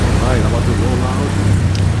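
A Honda S2000 AP1.5 pulls out on a night street in Singapore, with a steady loud engine drone, low rumble and surrounding traffic noise filling the clip and no pauses.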